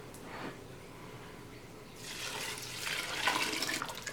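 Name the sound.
pouring spring water into a soup pot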